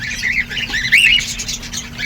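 Cockatiels in a cage with clay-pot nests squawk and chirp in short harsh bursts, one call standing out loudly partway through, over a faint background hum without speech.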